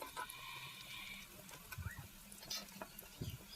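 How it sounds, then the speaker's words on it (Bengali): Beef fat dropped into hot oil with browned onions gives a close, light sizzle, with scattered scrapes and clinks of stirring layered over the frying and no voices. "পেঁয়াজগুলো দেখো লাল লাল করে ভাজা হয়ে গেছে এবার আমি চর্বিগুলো দিয়ে দিচ্ছি দেখো"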